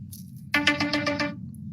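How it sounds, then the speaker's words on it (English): Phone ringtone for an incoming call, a short melodic electronic chime that begins suddenly after a quiet start and fades out, fairly faint over low background hum. "Of course, I get a phone call right when that happens."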